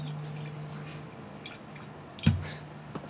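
Water runs through a homemade siphon contraption, giving faint drips and a wet squishing gurgle, with one louder splash partway through and a smaller drip near the end.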